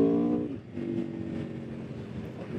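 A 2020 Aprilia RSV4 1100 Factory motorcycle engine runs close by with a steady throaty hum and rough exhaust burble, briefly dropping in pitch before settling into a continuous drone.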